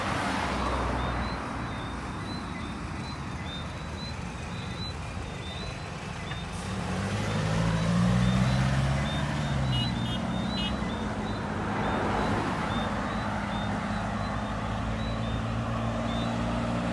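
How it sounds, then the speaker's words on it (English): Traffic passing along a one-way street at night in the Warrens business area of Barbados, a truck engine swelling and fading amid steady road noise, with a repeated reversing beep in the distance. "vehicles can only come in the direction I'm pointing in, like where the vehicles are coming now"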